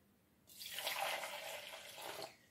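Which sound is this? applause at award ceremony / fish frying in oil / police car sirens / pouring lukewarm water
pouring lukewarm water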